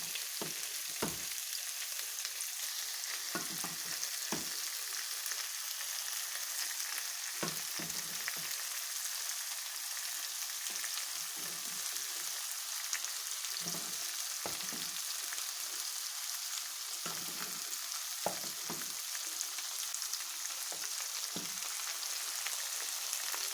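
Mung beans with radish and cauliflower in coconut milk are stirred in a pot, giving a steady simmering sizzle with scattered spoon scrapes and clinks throughout, with no talking.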